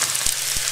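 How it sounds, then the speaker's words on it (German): Onions and mushrooms frying in a pan for a vegan lentil dish, a steady close sizzle and crackle with two soft knocks or stirs, no talk. "könnt ihr schon mal die Zwiebeln reingeben und die einmal kurz anschwitzen. Dann könnt ihr auch schon die Pilze reingeben"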